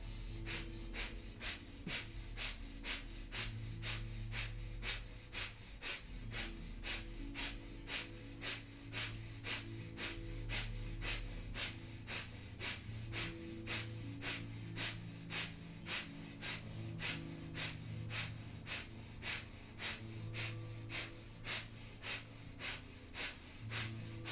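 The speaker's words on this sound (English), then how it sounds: "And here we'll begin breath of fire." Breath of fire yoga breathing: rapid, forceful nasal exhalations pumping at an even pace of about two per second, close and sustained for over twenty seconds above a low steady hum.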